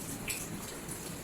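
Dense, steady rain hissing and pattering, with strong wind pushing it in a continuous wash of noise, in the Philippines.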